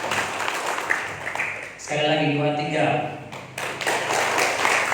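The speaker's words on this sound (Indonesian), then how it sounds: "Tepuk tangan buat Tuhan Yesus." A congregation at a New Year church worship service claps hands in quick, dense bursts, briefly interrupted by a voice speaking over a microphone before the clapping resumes.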